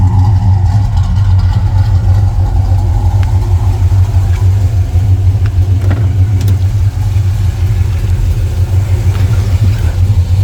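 A 1987 Pontiac Grand Prix LE engine idles steadily and loudly throughout in over 100-degree heat, a deep continuous rumble with no voices.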